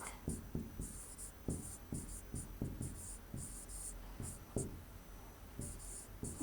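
Writing by hand: a run of soft, scratchy strokes and taps, close by and fairly quiet, with an irregular rhythm of short bursts and brief pauses.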